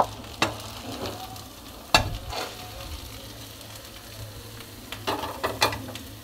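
Olives sizzle steadily in hot oil in a pan while being fried for a Bengali pickle, with a few sharp stirring clanks and scrapes over a constant frying hiss.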